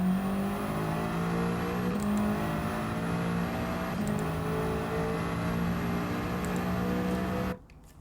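Fully upgraded Lancia Delta HF Integrale rally car in Gran Turismo 7, its engine droning loud and steady under hard acceleration, with brief dips at gear changes, then cutting out abruptly near the end.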